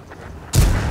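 A single heavy tank gun shot from the World of Tanks video game hits a Skoda T25, arriving as one sudden loud boom after near quiet.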